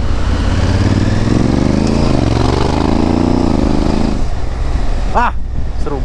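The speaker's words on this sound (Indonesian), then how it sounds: "Wih ini Desert X ya kayaknya ya. Wait, digeber juga dia." Ducati Desert X motorcycle engine revving nearby, a rough continuous drone that rises and falls over several seconds and then drops off, with sharp revs near the end.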